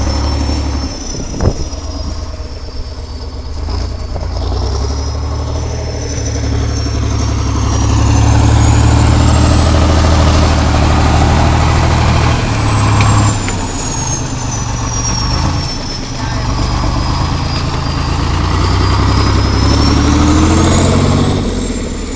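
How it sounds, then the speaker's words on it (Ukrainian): A heavy T-150 crawler tractor bulldozer engine runs steadily at idle, a deep low rumble with a whining high tone that slowly rises and falls, continuous and close. "як він робить Т-150. Це є класний трактор"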